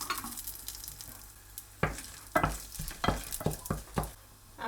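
Whole spices, green cardamom, stone flower, cloves, cinnamon pieces and bay leaf, fry in hot oil for mutton, with a soft steady sizzle and several sharp stirring scrapes and taps against the pan.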